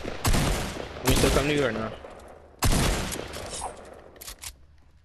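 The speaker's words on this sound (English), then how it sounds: "let me shoot this gun" Pump shotgun blasts in a video game, with three loud, sharp bursts spaced a second or more apart while a voice talks over and between them.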